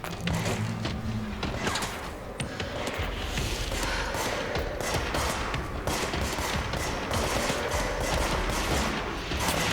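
Enemy gunfire in the action game Control, a busy mix of rapid shots and thuds inside a loud, chaotic combat soundscape that stays steady the whole time.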